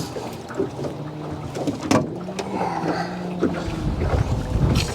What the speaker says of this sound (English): The wind is gusting at probably solid 20 miles an hour today